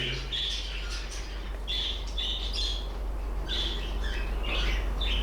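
Orphaned budgerigar chicks chirp and squawk in short bursts of high, thin calls while being hand-fed, close by over a low steady background hum.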